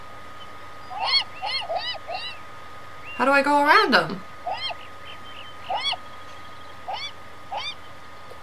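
Seagulls flocking around bread in the video game Beyond Eyes give repeated short cries and one longer squawking burst, with a person talking over them.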